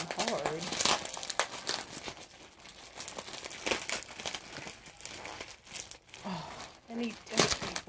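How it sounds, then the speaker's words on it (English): Plastic wrapping on a reborn doll package crinkles and tears in irregular bursts, fairly close, while people talk over the rustling. "it's not necessarily a box opening, it's unwrapping, because it ain't in a box"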